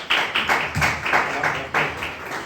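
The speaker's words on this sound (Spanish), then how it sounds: "Aplauso fácil." A small audience at a philosophy talk claps in a sparse, uneven burst, with separate close handclaps repeating at a loose rhythm for a couple of seconds.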